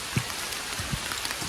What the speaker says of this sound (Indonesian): Hujan di hutan.